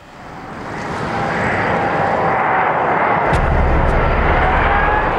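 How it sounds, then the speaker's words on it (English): Airbus A380 airliner landing, a loud, steady roar of jet engines and rushing air that swells over the first second, then a deep low rumble joins as the wheels meet the tarmac, with no voices. "Touchdown. The earth-shattering collision of wheels and tarmac."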